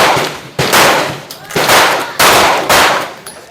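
Rapid loud gunshots from a Smith & Wesson 4043 TSW .40 caliber pistol, five sharp cracks spaced about half a second apart with ringing decay between, close to the shooter.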